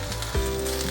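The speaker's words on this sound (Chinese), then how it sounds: "把杏鲍菇铺平，让它煎一下" King oyster mushrooms laid flat in a hot pan sizzle steadily, a close, soft frying hiss with a brief louder crackle partway through, no voices.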